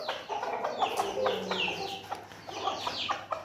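A broody hen clucks steadily and close by, with low throaty calls mixed with a few higher, drawn-out squawks.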